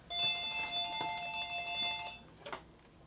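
A telephone rings with a sustained electronic trill for about two seconds, fairly close indoors in a motorcycle workshop, followed by a brief clatter as the handset is picked up.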